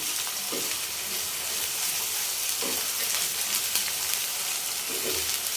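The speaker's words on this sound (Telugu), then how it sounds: "ఒక స్పూన్ అల్లం వెల్లుల్లి పేస్ట్ అది వేసుకొని చక్కగా పచ్చి వాసన పోయేంత వరకు వేయించుకోండి" Ginger garlic paste frying in hot oil for an egg and dry prawn curry, giving a constant dense sizzle close by, with a few soft stirring scrapes at intervals and no talk.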